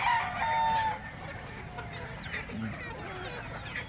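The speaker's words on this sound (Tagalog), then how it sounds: "Dami ho nating manok" Chickens on a poultry farm, a rooster crowing loudly at the start followed by scattered clucking from the flock, with a voice talking underneath.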